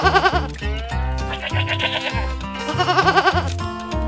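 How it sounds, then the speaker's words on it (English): Bighorn goats on a farm bleat repeatedly, close and loud, a series of wavering, quavering cries that overlap and rise and fall with short gaps between calls. "The bighorn goats."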